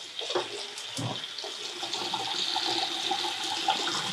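A kitchen pot filler tap pours water into a pasta pot, a close, steady rushing splash with a few clunks near the start and no voices.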